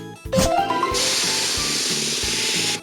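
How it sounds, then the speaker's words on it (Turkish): In a children's car video game, a short rattling clatter gives way to a loud, steady hiss of primer spray paint, close and continuous for a couple of seconds before stopping. "Şimdi astarlı boya spreyini hazırlanan yerlere sürükle."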